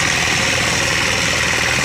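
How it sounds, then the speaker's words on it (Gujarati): A harvester machine cutting wheat runs close by with a loud, unbroken mechanical drone and a steady rattling vibration. "જો આપણા સરસ ઘઉં કાપે છે મશીન જો"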